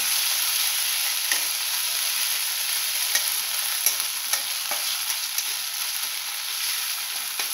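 Crushed ginger sizzling in a hot pan while being stirred, a bright continuous hiss broken by light, irregular scraping taps from the spoon, close up and with no voices.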